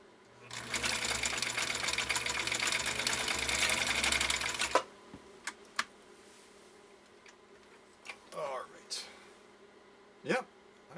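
A sewing machine zigzag stitching through two layers of protected full-grain leather runs in a fast steady clatter for about four seconds, then stops, followed by scattered clicks and handling noises.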